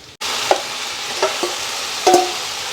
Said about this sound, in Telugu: మేమైతే మామిడికాయ తురుము వేయించుతామండి వేయించితేనే బాగుంటుంది